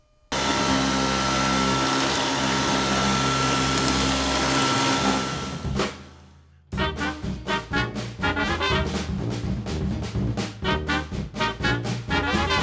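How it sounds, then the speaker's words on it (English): A vacuum cleaner cleaning a garage floor roars loud and continuous for about six seconds, cuts out briefly, then returns as a pulsing, surging whine. "I ran out of vacuum power, so I did my best."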